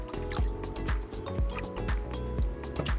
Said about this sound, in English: we rinse the sprouts in a bowl with water